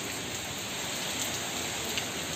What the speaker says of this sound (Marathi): एवढ्या जोरात पाऊस येतोय